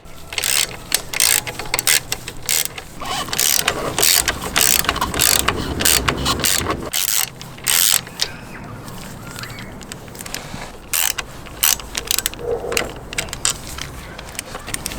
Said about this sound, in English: The next step is to remove these 2 bolts, one on the top and one on the bottom of the brake pedal from the right side.